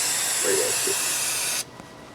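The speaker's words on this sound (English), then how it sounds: "Let's get to welding." Arc welding on a marina hoist forklift during a repair, a steady crackling hiss held close and loud for about a second and a half before cutting off abruptly, leaving faint background noise.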